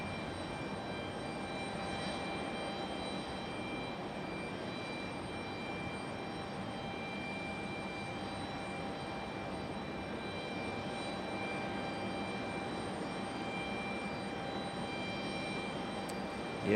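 A jet airliner departs Raleigh-Durham International Airport bound for DCA on a stormy night, its engines a steady, distant roar that holds evenly throughout with no talk over it.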